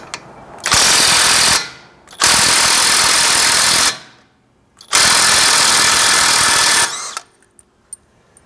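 A budget electric impact wrench hammers off a car's axle nut in three loud, sustained bursts of about one and a half to two seconds each, separated by short pauses, close up with no talking.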